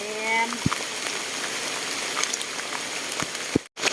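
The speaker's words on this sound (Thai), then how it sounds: "อ้าวฝนก็ลงเม็ดมาอีกแล้ว" Steady rain hisses outdoors as a constant wash, with a few louder drips and knocks standing out against it.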